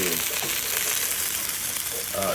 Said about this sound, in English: This egg's frying.